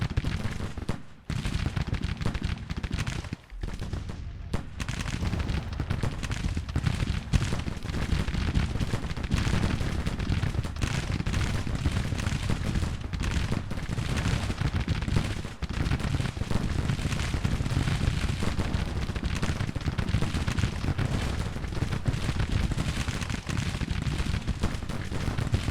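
Massed musket volleys and artillery fire from brigades in a Civil War battle in the Grand Tactician strategy game, a dense, continuous roll of overlapping gunfire and booms at constant loudness with brief gaps.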